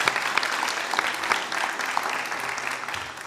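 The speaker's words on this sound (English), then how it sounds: "round of applause for Anjana Sutta Prabhu" Steady applause from an audience at a devotional Lila Katha gathering at Bhaktivedanta Manor, a dense wash of clapping sustained for a few seconds, fading slightly at the end.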